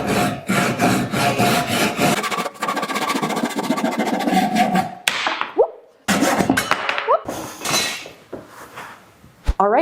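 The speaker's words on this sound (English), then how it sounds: "we're gonna saw off the excess material on the legs" Hand saw cutting excess wood off furniture legs resting on the floor without a vise, loud rapid rasping strokes throughout, broken by brief pauses and a few creaks and scrapes as the cut finishes.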